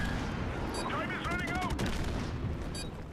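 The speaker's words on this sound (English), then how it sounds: "Just chuck this airstrike out here" Call of Duty multiplayer match with an airstrike called in, producing dense, loud gunfire and booming explosion bursts throughout, with a continuous barrage of game combat noise.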